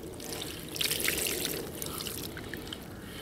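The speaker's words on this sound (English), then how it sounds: "Sling's ready, just give it a bit of water." Water poured over a fishing sling at a fishery lake, a short close splashing trickle that swells then tapers over a few seconds.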